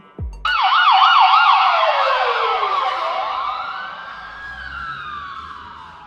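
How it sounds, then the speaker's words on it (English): An AI-generated emergency vehicle siren passes by, its wailing tone loud at first, then sliding from high to low pitch and fading toward the end, with no voices. "The siren started out louder, which got barely audible towards the end, just as the vehicle was passing by."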